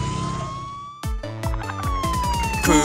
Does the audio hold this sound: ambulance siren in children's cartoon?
yes